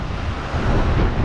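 Steady outdoor wind rushes and buffets across the microphone while light-tackle rock fishing, a broad continuous roar with low rumbling gusts and no voices.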